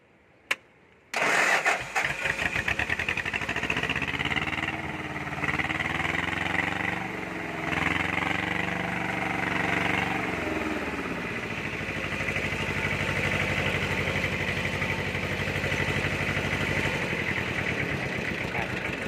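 A diesel tractor engine, its glow plugs heated first, cranks and catches after a short pause, revs up, then settles into a steady loud idle that runs to the end.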